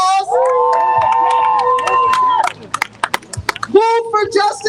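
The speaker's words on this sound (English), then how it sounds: "Give them a round of applause." At an outdoor justice rally, a crowd lets out a long drawn-out cheer, followed by a burst of scattered, sharp claps. More whooping rises near the end, loud and close.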